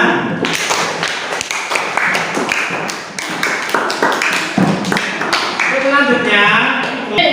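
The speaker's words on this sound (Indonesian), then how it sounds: "tepuk tangan." A school class claps together in a short rhythmic burst, sharp hand claps and taps sounding close in a classroom, with children's voices mixing in toward the end.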